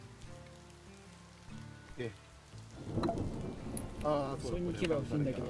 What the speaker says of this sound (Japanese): 雨だ